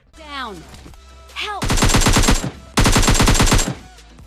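Rapid automatic gunfire from an S12K and M416 in PUBG Mobile Lite, two loud sustained bursts of fast shots following brief game effect sounds and a quiet voice.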